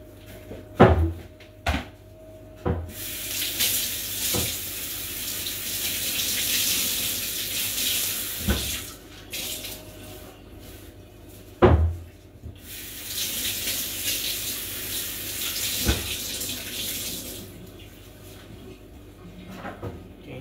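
A kitchen water tap runs in two long gushing bursts while cooking kimchi, broken up by sharp knocks of cupboards and utensils, with no talk.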